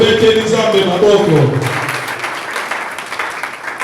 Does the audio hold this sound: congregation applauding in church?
yes